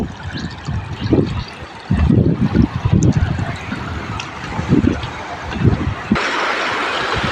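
Water of Gokak Falls rushes and splashes in a broad steady wash, close to the microphone, with gusts of wind buffeting it and no one speaking.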